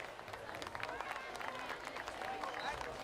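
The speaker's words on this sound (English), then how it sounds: "Let's give all of our seniors and families a round of applause" Crowd at a high school varsity football game clapping for seniors and their families, a dense, distant-sounding patter of hands with faint murmuring voices underneath.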